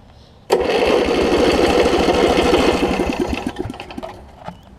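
A Snapper RER riding mower with a broken governor and water in its fuel cranks over abruptly, its engine chugging loudly in a rapid rhythmic churn for about three seconds before slowing and fading out.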